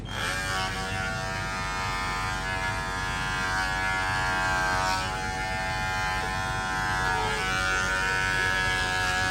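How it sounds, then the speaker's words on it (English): Electric clippers buzz steadily and close up while shaving the matted stomach coat of a Japanese spitz during grooming, a continuous motor drone with slight shifts in pitch as the blade moves through fur. "We're just gonna shave your stomach."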